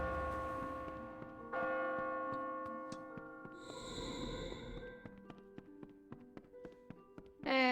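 A video game bell rings out in clear sustained tones at several points, with a pulsing shimmer in the middle, followed by a series of light ticking taps.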